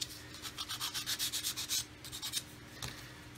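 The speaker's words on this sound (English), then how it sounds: "Just quickly sand this edge down." Hand sanding along the edge of a model with sandpaper, a close, steady series of rhythmic rubbing strokes that fade near the end, followed by one sharp tap.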